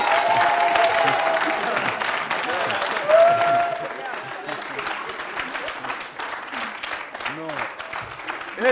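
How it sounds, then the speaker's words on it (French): Studio audience applause on a French television comedy show rolls steadily for a few seconds, then thins as voices talk over it. "il faut vous applaudir très, très fort"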